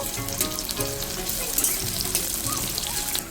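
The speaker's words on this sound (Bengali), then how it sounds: "পেঁয়াজ কুচানোটা বেশ মোটামুটি লাল লাল করেই ভেজে নেব" Chopped onion frying in oil with cumin for chicken patties, a dense, continuous close sizzle with a few faint knocks of utensils in the pan.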